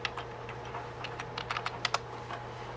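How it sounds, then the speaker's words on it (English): Keys clatter on a computer keyboard hooked to a 2006 Mac Pro, a loose, uneven run of close clicks that bunch together toward the end, over a constant background hum and no speech. "Hard to type while I'm holding the camera."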